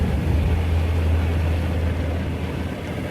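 Propeller aircraft climbing after takeoff in a radio drama, a steady loud low engine drone with a deep hum that holds even and eases slightly toward the end.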